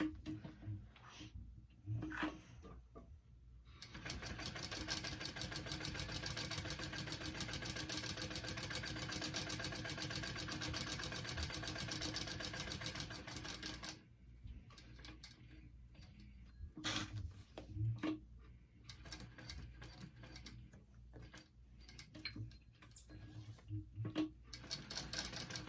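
Sewing machine running steadily while stitching a handbag seam at an eighth-inch allowance, a long continuous mechanical whir followed by shorter bursts with pauses, close and moderately loud.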